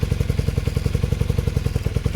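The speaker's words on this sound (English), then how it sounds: "it's idling roughly where it should now." A Honda motorcycle engine idles steadily at close range, a fast even chugging pulse with low mechanical clatter running throughout, no voices over it.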